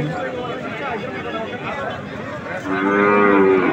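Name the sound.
cattle mooing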